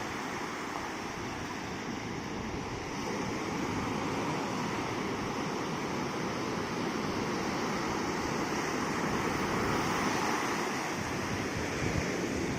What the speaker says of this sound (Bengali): কত সুন্দর ঢেউ আসছে, দেখতে কত সুন্দর লাগছে।